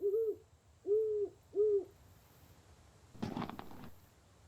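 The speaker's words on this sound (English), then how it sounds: "A large owl seems to be watching you." An owl in the video game VR Colossal Cave gives three clear, evenly spaced hoots, followed by a brief louder rustling burst.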